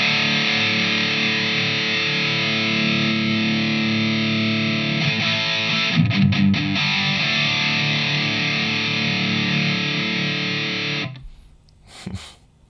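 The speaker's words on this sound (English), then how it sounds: "It sounds very much like a distortion pedal going into an amplifier." Guitar played through a Mustang Micro Plus amp simulator's high-gain distortion into an amplifier, voiced like a Bogner Überschall: a loud, thick, sustained distorted chord ringing steadily, then cut off, with brief handling noise at the end.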